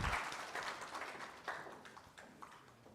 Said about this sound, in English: Another round of applause for Professor Verkoyen